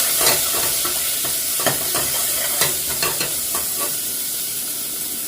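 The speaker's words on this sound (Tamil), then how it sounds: "ஒரு ஸ்மால் சைஸ் வெங்காயத்தையும் ஸ்லைஸாக கட் பண்ணி ஆட் பண்ணுறேன் நல்லா மிக்ஸ் பண்ணிடுவேன்" Sliced onion, curry leaves and fenugreek are stirred in a hot pan, giving a steady close sizzle broken by scattered scraping clicks of the spoon.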